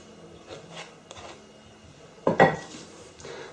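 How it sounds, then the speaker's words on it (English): Spoon clinking and scraping against a bowl while spreading a chocolate mixture over a no-oven cake, a few soft scrapes followed by one sharper clatter near the middle. "Just scrape the spoon."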